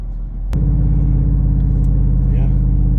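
A race truck's engine drops a gear by itself while coasting off the throttle, a sharp shift click followed by a loud, steady, close low rumble with a deep harmonic drone heard from inside the cab.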